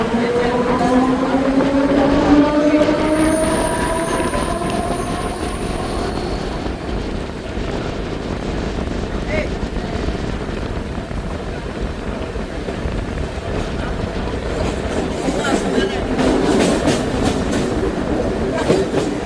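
A Mumbai suburban train from Navi Mumbai to Chhatrapati Shivaji Maharaj Terminus rumbles steadily along the tracks in the rainy season, with clattering wheels, loud and continuous, and a high whine passes briefly early on.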